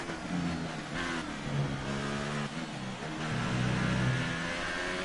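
An F1 car engine at maximum revs in the F1 2018 racing game, a steady high-pitched whine rising and dipping slightly through gear changes, continuous and fairly loud with no talk.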